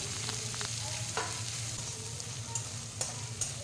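Chopped tomato stirred into hot oil in a pan for chana dal, a steady close sizzle broken by occasional spatula scrapes and light taps against the pan.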